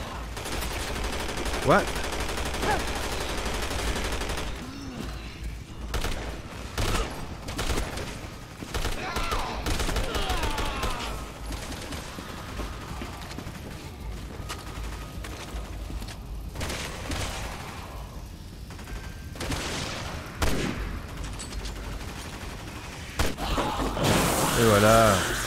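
Gunfire in Resident Evil 6 crackles in bursts of shots, with a player's voice talking over much of it.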